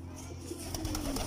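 A domestic pigeon kept for breeding coos softly nearby, low throaty murmurs repeating over a steady background hum.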